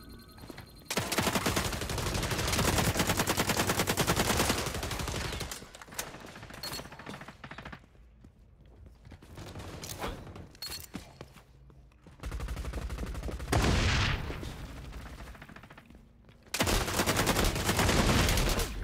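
Rapid automatic gunfire in the shooter game XDefiant, long loud bursts at the start and end with shorter scattered volleys between, heard up close with no talking.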